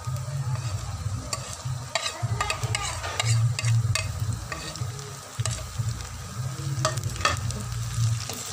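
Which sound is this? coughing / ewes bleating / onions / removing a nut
onions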